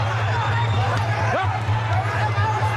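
A capacity crowd at an Australian Muay Thai fight roars and cheers in a steady, dense wall of noise, with a constant low hum running underneath throughout.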